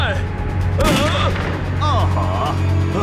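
A single loud gunshot cracks out near the start amid a noisy, dramatic movie scene background, with voices and swooping sounds following.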